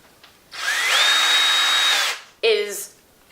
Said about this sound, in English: I use my cordless drill for pre-drilling